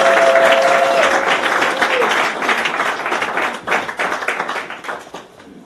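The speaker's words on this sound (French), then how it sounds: "j'aimerais demander à toute la salle d'applaudir fortement pour la gloire de Dieu" Large hall audience at a customary wedding ceremony clapping loudly and steadily, dense applause that thins and fades toward the end, with a brief voice near the start.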